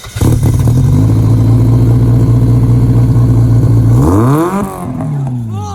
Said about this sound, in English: Oh, don't rev it on a cold start. Why? God damn, that's just loud.